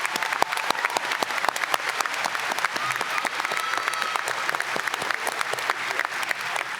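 A graduation audience claps steadily and fairly loudly for faculty and staff, a dense, even applause that runs throughout.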